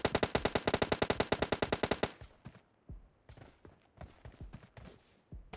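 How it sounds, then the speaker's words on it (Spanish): Rapid automatic gunfire from PUBG Mobile, a fast burst of about fifteen evenly spaced loud shots over two seconds, then scattered quieter shots and thuds further off. "Me están disparando de las casas, de sus casas"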